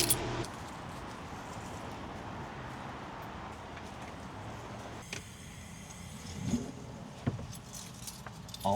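Keys jangle in short, close, faint bursts near a pickup truck, a few light metallic rattles over a low steady outdoor rumble.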